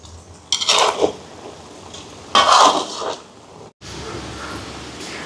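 Curry powder being stirred into curry in a pot, with two bursts of scraping and clanking from a utensil against the metal, then a quieter wet simmering background.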